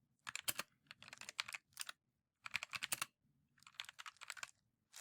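Computer keyboard typing while entering subtitle text in a website page editor: quick runs of close, crisp key clicks broken by short pauses, with no talking.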